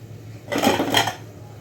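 A metal lid set down onto a pot of leafy greens cooking with salt and turmeric, giving a brief clatter and a second clink about half a second later, close and moderately loud over a low background hum.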